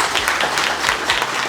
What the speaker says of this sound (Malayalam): കയ്യടി കൊടുക്കണമെന്നാണ് എനിക്ക്